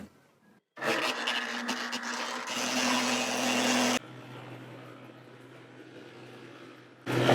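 A mixer blends wet and dry sheep and goat feed, starting up with a loud motorized whir and rumble, then settling to a lower steady hum before a fresh burst at the end.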